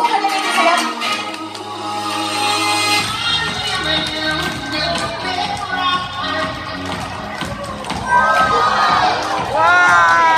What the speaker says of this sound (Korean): 모습이 보이신다면 큰 박수로 환영해주세요.